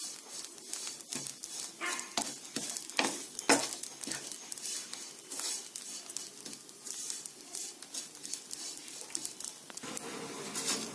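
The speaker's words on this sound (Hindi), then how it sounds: "हीटेड पैन में आप सारे ब्रेड क्रम्स को डालकर इसे मीडियम फ्लेम पे" Bread crumbs roast in a heated pan over a medium flame, giving a steady dry sizzle and crackle with irregular scraping stir sounds, close and moderately loud, with no voices.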